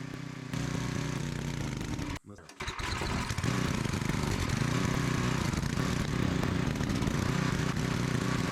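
A small generator engine runs steadily at high revs while its finicky carburetor's high-speed screw is adjusted, stumbling briefly and dipping near the middle before roaring back to a constant, loud drone.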